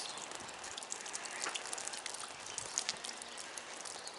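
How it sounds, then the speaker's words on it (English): Light rain falls outdoors on already soaked ground, a steady close hiss of fine drops with scattered soft ticks and patters and no voices. "Whereas right now we're getting some rain here."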